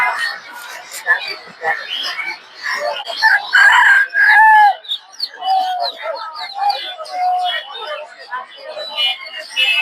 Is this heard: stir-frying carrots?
no